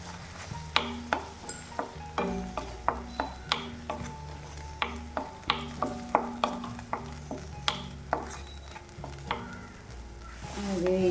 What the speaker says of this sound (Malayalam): ഇഞ്ചി നന്നായിട്ട് വഴണ്ട് വന്നിട്ടുണ്ട്. വെള്ളമൊക്കെ വറ്റി.